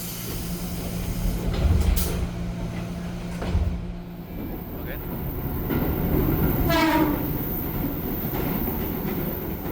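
A KRL commuter train of 10 cars on the Merak local line in Indonesia rumbles past with clattering wheels and a sustained squeal, gradually growing louder.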